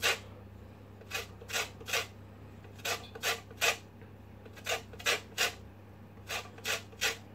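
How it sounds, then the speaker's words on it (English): A lemon rubbed against a kitchen grater to zest it for a lemon drizzle cake, heard as close, rhythmic rasping strokes in small bursts of two or three over a steady low hum, with no talking. "Now you just want to grate the lemon until you start to see the white piffy bit"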